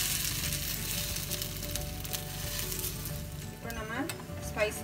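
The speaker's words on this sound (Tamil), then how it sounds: "பிரெட் டோஸ்ட் டிப் பண்ணி பேன்ல வைக்கிறோம். அடுத்த பக்கம் திருப்பி போடுவோம்." Egg-dipped spicy bread toast frying in a pan, a continuous loud sizzle with a clatter and scrape of turning near the end.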